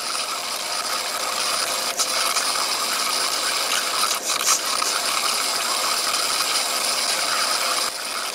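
A portable high power broken tap remover, the SFX-4000B, runs as its electrode burns through, producing a loud, steady mechanical buzzing rattle with a few brief dips and surges.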